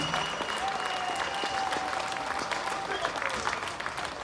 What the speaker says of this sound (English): let's have a big round of applause for everyone behind For the Children campaign who's been doing this